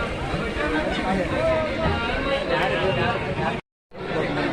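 Dense, steady hubbub of devotees crowding the Shri Siddh Mahadev temple fair in Konkan, a continuous babble of many voices close around, broken by a brief dropout near the end.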